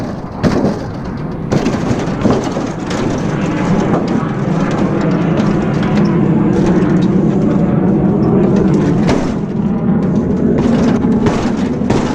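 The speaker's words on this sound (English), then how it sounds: "Sorry about the airplanes." Continuous low roar of jet aircraft passing overhead, loud and steady throughout with a broad rumbling drone.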